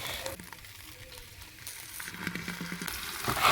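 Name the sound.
cooking oil poured into a hot pot, sizzling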